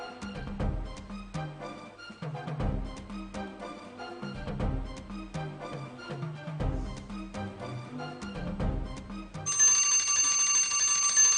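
A bright, sustained time-up bell from a Ghanaian school quiz competition rings out near the end, after rhythmic background music with thumping beats.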